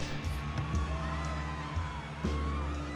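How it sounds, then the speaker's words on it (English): Crowd roaring in panic as a sound effect: a dense wash of distant yells and whoops, with a few louder shouts rising out of the steady clamor. "The crowd bursts into a roar of panic."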